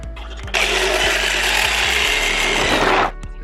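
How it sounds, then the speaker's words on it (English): An old Black & Decker power saw cutting through plywood, a loud steady whining roar of blade through wood for about two and a half seconds, starting abruptly and stopping with the motor winding down. "This is a Black & Decker. This thing is old, old. So I'll be using this to cut this out."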